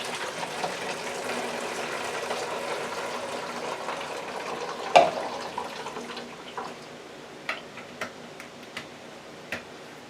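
Lemon juice pours through a funnel into a container as a soft, steady trickle, then a sharp knock is followed by scattered faint ticks and drips.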